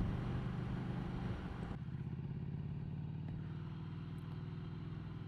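A Ducati Scrambler 800 Icon motorcycle rides along with a low, steady engine rumble and faint rhythmic throb, dropping suddenly to a softer, more muffled drone partway through, quiet overall with no talking.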